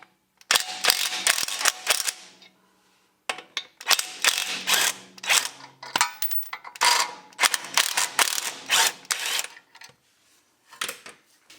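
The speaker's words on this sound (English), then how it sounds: "14mm socket, and we're going to go ahead and loosen these out" Ratchet wrench with a 14mm socket loosening bolts on a 1st-gen Toyota Tacoma during lower ball joint replacement; rapid, loud clicking bursts in several runs with short pauses, close and alone.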